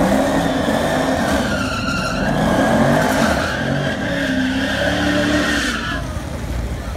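Donk car pulling away in a street race at a car show, loud sustained engine roar with rising revs and tire noise, crowd voices talking over it.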